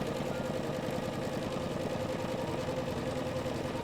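An embroidery machine stitches the outline of a mini fringe tree, a constant rapid mechanical rattle and hum running steadily up close without talk.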